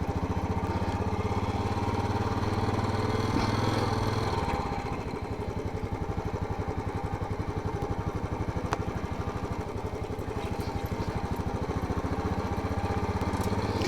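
Royal Enfield Classic 350 kick-start single-cylinder engine running steadily after starting, a close, loud, even thumping idle that shifts slightly in pitch partway through, alone with no talking.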